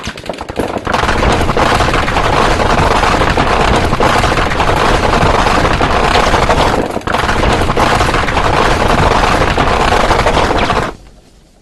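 M134D Gatling machine gun fires in long, dense, continuous bursts that sound loud and close, with a brief pause midway before the fire resumes and then cuts off.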